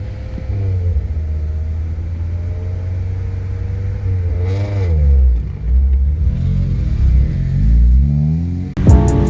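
An Acura RSX Type S with a rough, bad-sounding exhaust idles with a deep, steady rumble, then is revved twice in loud, surging bursts, close by and without talk.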